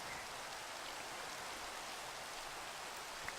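Steady rain falls in the Minecraft video game, a soft, even hiss of raindrops that stays constant and fairly quiet, with no talking over it.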